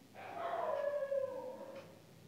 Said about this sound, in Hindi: फिर रात को अब ये कुत्ता भौंकने लग गया